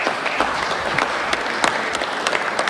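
Applause rises in the Montana Senate chamber after a unanimous vote on a property tax bill, a brief run of steady clapping with a few sharp individual claps standing out.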